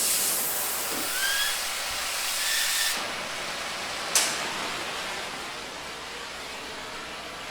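A torch roaring as it heats a broken leaf spring bolt on a 1978 Jeep J10, a steady broad hiss that shifts in tone partway through, with a sharp click or tap near the middle, close and continuous.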